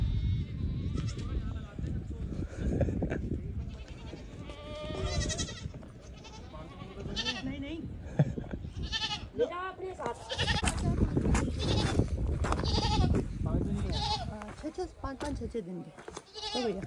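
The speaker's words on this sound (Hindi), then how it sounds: "ये देखो भाई बकरी" Several small goats bleat repeatedly at close range outdoors near a waterfall, their wavering cries overlapping with frequent conversation throughout.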